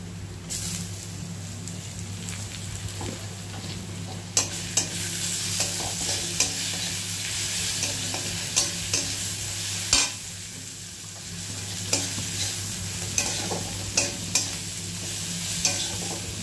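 Tomatoes go into a pan of frying spices with turmeric for a tilapia curry, producing a steady close hiss of frying oil under regular sharp taps and scrapes from a stirring spoon, with no talk throughout.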